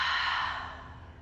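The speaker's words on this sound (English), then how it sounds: "Take a big inhale. And exhale." A single breathy exhale during a spring yoga flow, close and fairly soft, gliding down like a sigh and fading over about a second with no talking.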